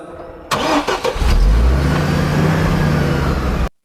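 A scooter engine self-starts after being switched off to save petrol on a Rajkot road trip: a few quick cranking clicks, then the engine catches and settles into a loud, steady idle close by before cutting off abruptly.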